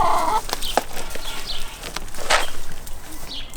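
Backyard chickens in and around a coop beside a compost bin give scattered clucks and short calls, moderately close, with rustling and footsteps over outdoor background noise and no talking.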